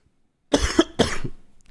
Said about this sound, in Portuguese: Tô tossindo mais do que nunca.